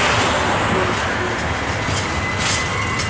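A CSX intermodal freight train with tall 53-foot containers rolls steadily past up close, a loud continuous rumble of wheels and cars with a faint high squeal near the end.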